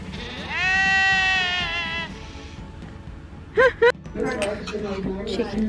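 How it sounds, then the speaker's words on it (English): A sheep in a field at the front of a Cotswolds hotel in England gives one long, clear bleat, followed by people talking nearby with faint background noise. "So these are the sheep in the fields just at the front of our hotel as you drive in."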